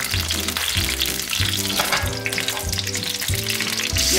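Vegetables frying in olive oil in a pan make a steady, close sizzle, while rhythmic low repeating tones run underneath the whole time.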